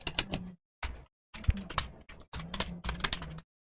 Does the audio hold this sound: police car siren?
no